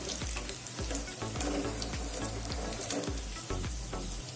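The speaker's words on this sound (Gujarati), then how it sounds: "તો હજુ આપણે તેને 2 થી 3 મિનિટ આ રીતે તળાવવા દઈશું" A bottle gourd and gram flour snack deep-fries in hot oil, a dense, continuous close sizzle with rhythmic low bubbling pulses throughout and no talking.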